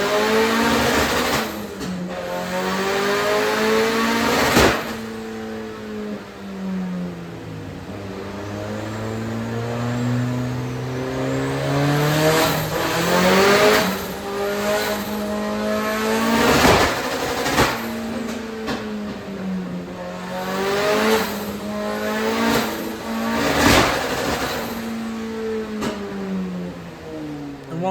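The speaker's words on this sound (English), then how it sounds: "it was time for some party runs and enjoying the sounds that the car is producing." A 1.6-liter turbocharged drift Miata strapped to a dyno, revving repeatedly in bursts, engine pitch sweeping up and falling back with sharp pops and cracks between pulls, loud and close over a long stretch.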